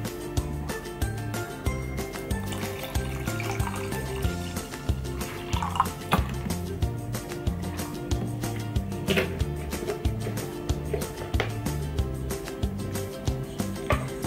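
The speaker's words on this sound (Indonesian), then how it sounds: "langsung aja kita tuangin airnya ke dalam Stojo" Water pours into a Stojo collapsible cup in a steady, moderately faint trickle and splash, continuing for many seconds with small clinks and drips mixed in over background music.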